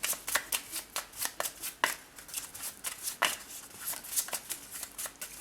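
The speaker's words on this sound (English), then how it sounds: "Let's just pull out a connection card here." Oracle connection cards being shuffled by hand, a rapid rhythmic series of crisp riffling bursts, close and fairly loud, with no voice.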